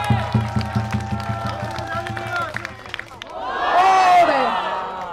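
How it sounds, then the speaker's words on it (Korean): Crowd at a taekkyeon battle match, a martial arts bout between two heavyweight fighters, cheering and clapping, with steady rhythmic claps early and then a swell of shouting voices, under an announcer's commentary. "여러분 다시 한번 두 선수에게 큰 응원의 박수 보내주시기 바랍니다"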